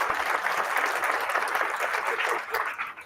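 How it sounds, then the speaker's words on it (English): Audience applause for a panel at a generic drugs forum, a steady dense wash of clapping from a large crowd that holds for about three seconds, then thins toward the end. "let's give our panel a round of applause"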